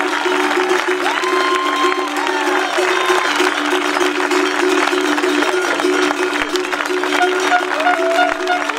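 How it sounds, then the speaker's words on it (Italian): Sustained audience applause at a skyrace award ceremony in Villacidro, steady and fairly loud throughout, with a low sustained tone and a few voices mixed into the clapping. "Vorrei che accogliessimo con un grandissimo applauso e tutta la squadra che ha seguito questo progetto."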